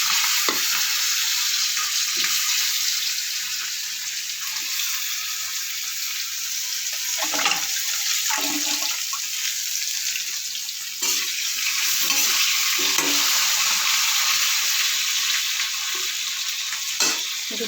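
Cut potatoes frying in oil with panch phoron in a wok, a continuous hissing sizzle with occasional stirring clatters, moderately loud and steady, no talk.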